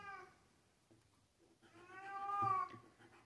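A cat gives a drawn-out, rising meow near the end, loud and close after a quieter, shorter call at the start, with little else around it.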